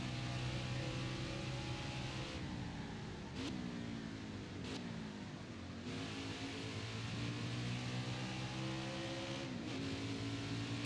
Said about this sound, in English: Enjoy the sounds of NASCAR.